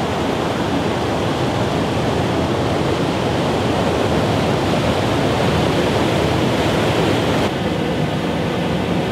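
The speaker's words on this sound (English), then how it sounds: "Running water ahead, so I think that must mean we're approaching Honing Bridge." Running water rushes steadily at the old lock near Honing Bridge on the North Walsham and Dilham Canal in Norfolk. The loud, continuous broadband roar is close by and unbroken, with no voices.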